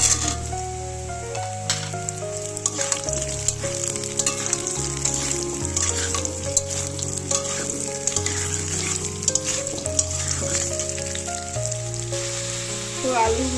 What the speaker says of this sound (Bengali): এবারে দিয়ে দেবো কেটে রাখা আলু দিয়ে